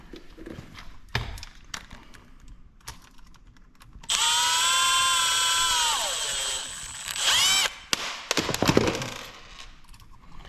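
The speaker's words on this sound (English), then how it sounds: "All right, so we're gonna take out these little screws." A cordless power screwdriver whirs for a few seconds, then winds down while backing out small screws from an electrical outlet, surrounded by light clicks and handling taps.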